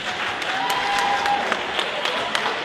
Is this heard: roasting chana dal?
no